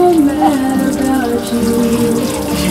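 Shower water runs steadily in an interactive Seward Johnson sculpture of a woman in a shower at Grounds For Sculpture in Hamilton, New Jersey, a constant spray under loud music and a singing voice.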